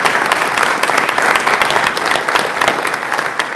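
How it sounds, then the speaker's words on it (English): Applause at a Wyoming Republican debate for state superintendent candidates: a loud, sustained burst of clapping from the audience, steady and full throughout. "If you'd all give them a round of applause."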